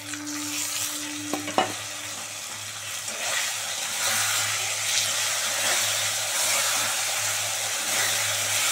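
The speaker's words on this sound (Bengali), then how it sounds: "লাল করে ভাজা হয়ে গেছে, এবার মশলাটা দিয়ে দিচ্ছি।" Spice paste frying in hot oil in a pan, a loud continuous hiss that swells after a few clattering stirs near the start, with no talk.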